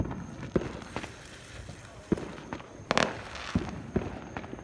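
Sparkler fireworks going off outdoors at a Fourth of July celebration, with several sharp crackling pops and bursts spread across a steady hiss, fairly faint and distant-sounding, with light movement noises in between.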